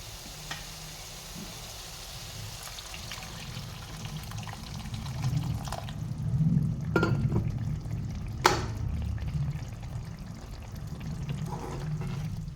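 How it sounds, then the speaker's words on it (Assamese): Hot water is poured into a pan of spices frying in oil for a cabbage dish. The pour rushes and sizzles, swelling midway, then settles into a steady bubbling hiss with no talking. "এতিয়া ইয়াতে দি দিম গৰম পানী"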